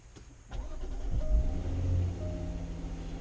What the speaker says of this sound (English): This is the 35T R Sport. So let's start it up.